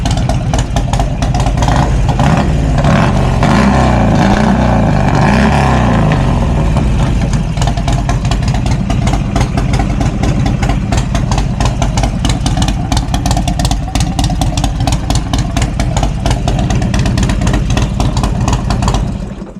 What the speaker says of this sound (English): The bike in fact runs, and I'm not gonna lie, it sounds pretty damn good.